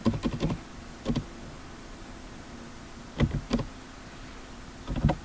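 Typing on a computer keyboard while writing an SQL query, with short bursts of clicking keystrokes separated by pauses, close and clear over a low steady hum.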